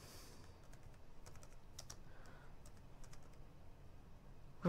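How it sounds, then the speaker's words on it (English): Quiet typing on a computer keyboard, a series of light irregular key clicks close by against a faint background hum. "So I'm going to type"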